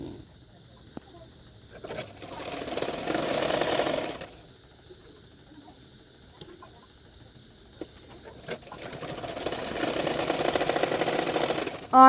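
A sewing machine stitching the side seams of a frock, two sustained runs of rapid mechanical whirring separated by quiet pauses and a few small clicks, close by.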